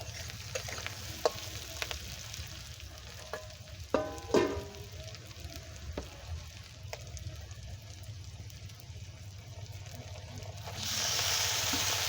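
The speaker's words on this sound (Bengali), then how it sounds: "পেঁয়াজটা ভাজা ভাজা হয়ে গেছে, এবার এতে আমি মাংসটা দিয়ে দেবো।" Meat fries with browned onions in a pot for meat khichdi, a soft, continuous sizzle with occasional stirring clatters, and a brief louder hiss near the end.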